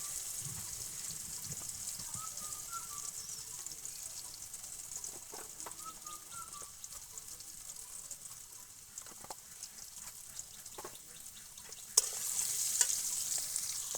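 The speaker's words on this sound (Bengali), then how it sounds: "তো আমি এখানে আলুগুলোকে সুন্দর করে ভেজে নিচ্ছি।" Potatoes fry in oil in a pan for egg bhuna, giving a steady close hiss with occasional stirring clicks throughout, growing louder near the end; no one speaks.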